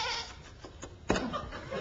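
A ewe gives one short, sharp bleat about midway, loud and close, among faint rustling and background noise.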